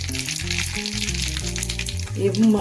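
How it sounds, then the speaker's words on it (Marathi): Mustard seeds dropped into heated oil for a tempering for dadpe pohe crackle and sizzle loudly up close, beneath a steady mid-pitched hum and a short burst of speech near the end. "आपलं तेल तापलं आहे, याला टाकून मोहरी. हे दडप्या पोह्यासाठी फोडणी."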